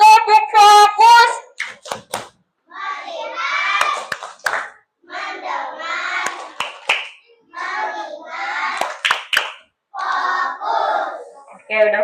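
A classroom of children claps and chants a rhythmic 'tepuk fokus' focus cheer together, short bursts of group voices broken by sharp hand claps, fairly close and loud.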